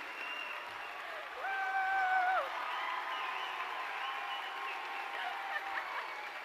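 A crowd applauds and cheers steadily at the opening ceremonies of the 2022 BC Summer Games, with whoops rising over the clapping and a voice speaking over the noise.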